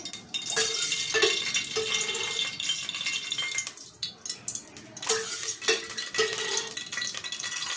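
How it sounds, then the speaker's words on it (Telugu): A metal kadai set on a stove clanks and rattles, then a ladle scrapes and taps as oil goes in for a Telangana-style mutton curry, with scattered close metallic knocks and clinks. "ఇప్పుడు స్టవ్ పైన కడాయి పెట్టుకొని ఈ గంటెతో 3 గంటల నూనె వేసుకుందాం"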